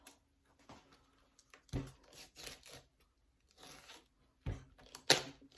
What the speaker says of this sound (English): Because I'm trying to break it off of the stem